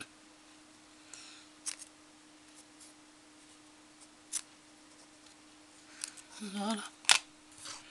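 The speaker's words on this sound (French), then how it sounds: "je vais couper ce petit bout qui dépasse" Scissors snip off a small protruding bit on a homemade Grinch Christmas coat, a few quiet, quick cuts near the end in a hushed room, with a brief spoken word.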